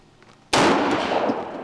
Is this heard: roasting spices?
no